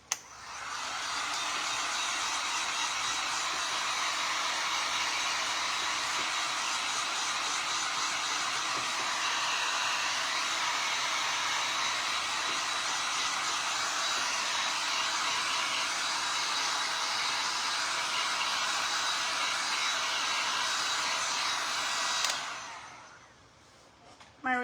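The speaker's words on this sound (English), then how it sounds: "So now we're going to dry it up before we apply more Mod Podge" A hair dryer blows a steady, loud whirring stream for over twenty seconds while drying Mod Podge on rice paper home decor, then switches off and winds down near the end.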